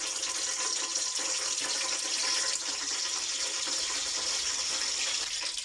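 Tap water runs steadily into a spoon as the cook adds it to a pan of anise seed and cinnamon stick frying in hot oil, a continuous bright splashing hiss with no talk.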